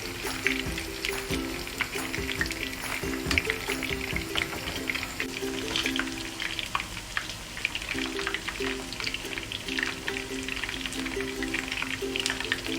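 Paneer cubes sizzle and crackle in a pan of hot oil while being carefully flipped for chilli paneer, a steady close frying hiss with faint stirring touches and a low background hum, no voices.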